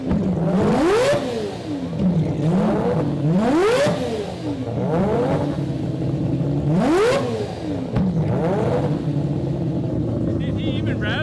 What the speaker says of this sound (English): Wonder what it sounds like to hear a 3 rotor and a 4 rotor in a rev battle?